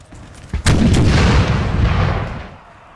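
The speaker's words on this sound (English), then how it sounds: "Canister, 3 rounds of canister straight into the front of them, and that sends them packing" Canister shot artillery fires in Napoleon: Total War with a sharp loud crack followed by a rolling boom and a rumbling tail that slowly fades.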